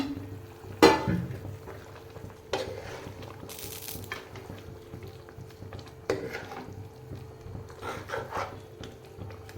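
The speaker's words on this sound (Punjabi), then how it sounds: "ਤੇ ਹੁਣ ਆਪਾਂ ਵਿੱਚ ਪਾਵਾਂਗੇ ਜੋ ਮੈਂ ਫਰਾਈ ਕਰੇ ਆ ਪਕੌੜੇ ਪਤੀੜ ਦੇ" Fried pakoras made from arbi (taro) leaves are tipped into a pan of ready curry gravy, producing scattered clatters and knocks of utensil on pot with soft stirring and a light background sizzle, close by.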